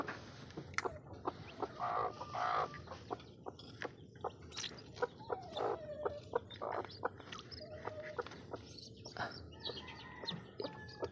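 White-gold bloodline chickens cluck and call around a farm where a chick has just hatched, with repeated short clucks and a few higher cheeps scattered over faint, steady background noise.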